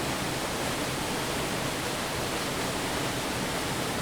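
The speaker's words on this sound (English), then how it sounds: "Our final waterfall on this trail." A waterfall on a trail in an Ecuadorian cloud forest, among stone walls covered in moss and ferns, gives a steady, dense roar of rushing water that fills the whole clip without change.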